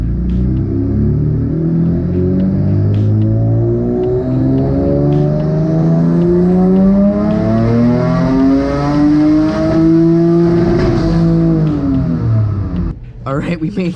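A twin-engine Mazda MX-3 with a low-compression rear engine, running boost on a Megasquirt tune, revs hard on a dyno. Its loud, close engine note climbs steadily for about eleven seconds before cutting off abruptly.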